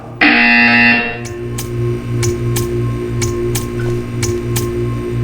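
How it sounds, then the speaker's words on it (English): A loud, steady electronic buzzer tone from the video game Portal 2 sounds for about a second, followed by a repeating series of short clicks or ticks over a low hum. "You will hear a buzzer."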